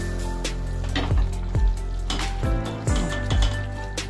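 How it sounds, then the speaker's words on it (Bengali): Hot cumin tempering is poured into dal and gives a broad, steady sizzle. Several dull clanks and thuds from the pot come at uneven intervals, close by, with no talking. "তখন আমি এটা ডালেতে ফোড়ন দিয়ে দেবো। ডালে ঢেলে দিই।"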